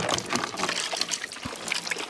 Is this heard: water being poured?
yes